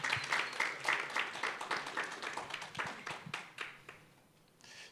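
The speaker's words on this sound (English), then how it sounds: "I want you once again to clap for her." An audience claps for a speaker at a democracy and legal activism event, a brisk patter of many hands that is fairly quiet and gradually thins out, with a brief burst near the end.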